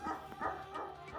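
A few faint, distant dog barks and yips carried on an open outdoor background.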